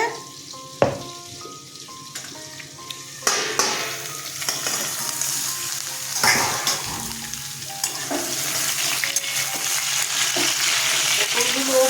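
Pieces of pointed gourd (potol) fry in a pan with a loud, steady sizzle. Now and then a utensil scrapes and clinks as they are stirred.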